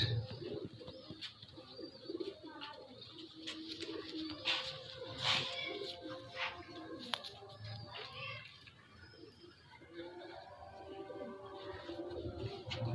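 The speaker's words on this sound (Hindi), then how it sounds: "ये मेरा दूसरा बड़ा कबूतर है" Old Salara Teddy pigeon, about 13-14 years old, cooing in soft repeated low calls, with faint chirps and other birds around it and no talk.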